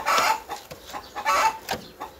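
Village chickens clucking in short bursts, a few close cackling calls spaced across a couple of seconds with farmyard background.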